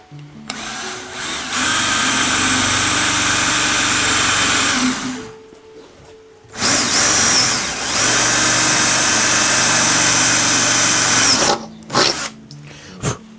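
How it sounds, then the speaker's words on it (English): A power drill bores holes during a DIY 12V solar system install on a Subaru, running in two long sustained bursts of several seconds each with a gap between, followed by a few short trigger blips, loud and close. "we now have all our holes drilled"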